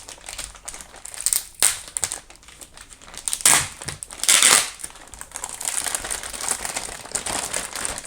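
Plastic wrap crinkles and crackles around a KEiiD boombox as it is unboxed, with sharp crumpling bursts close to the mic and then a steadier rustle of handling.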